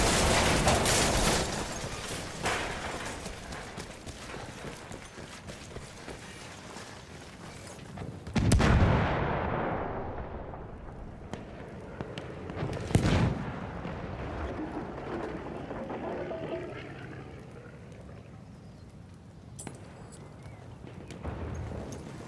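A tank cannon fires in a Battlefield 1 World War I battle. Two heavy booming blasts ring out several seconds apart, with rumbling echoes, amid ongoing gunfire and battlefield noise.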